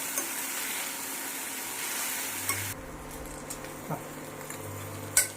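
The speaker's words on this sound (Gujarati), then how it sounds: "2-3 વાર આ રીતે હલાવશું." Spiny gourd (kankoda) curry sizzles in a pan as it is stirred, with a few soft spoon clinks and scrapes against the pan, close by, without speech.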